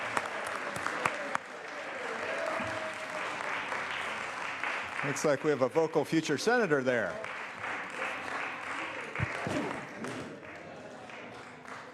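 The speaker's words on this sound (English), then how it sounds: "Let's give them a big round of applause," Applause from members on a state senate floor, a broad wash of clapping that continues while someone speaks over it and a voice rises briefly in the middle.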